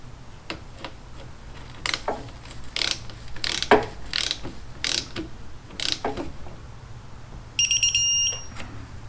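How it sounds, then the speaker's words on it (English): Ratchet wrench clicking in short bursts while torquing the oil drain plug on a 1981 Honda Passport motorcycle to 18 foot-pounds, close and fairly loud with pauses between strokes, plus a brief high electronic beep near the end. "So I'm going to tighten it up to 18 foot-pounds."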